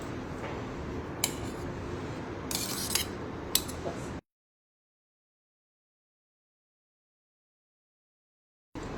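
Chopped capsicum and carrot get mixed by spoon into thick appe batter in a bowl, a close, wet scraping and squelching with a few sharp clinks, then silence.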